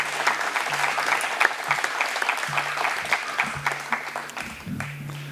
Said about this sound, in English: I would like to begin with a very loud applause for somebody whose special birthday is today